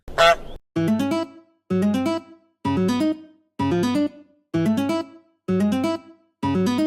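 A goose honks loudly and close, a rhythmic series of about eight evenly spaced, nasal honks following a brief rustle at the start.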